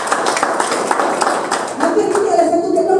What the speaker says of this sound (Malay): Beri tepukan pada Rizal.